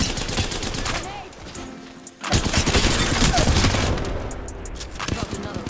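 Gunfire in the Apex Legends Season 9 video game rings out in dense, rapid bursts of close, loud shots, with a brief lull before another heavy volley.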